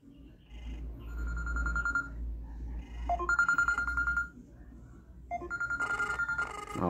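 A T800 Ultra smartwatch's repeating electronic ringtone for an incoming call, a steady trilling tone that sounds in three bursts, moderately loud and close, with a faint background hum.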